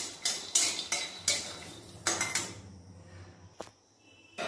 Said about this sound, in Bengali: কড়াই বসিয়ে দিয়েছি। কড়াইয়ের মধ্যে দিয়ে দেবো বাদাম।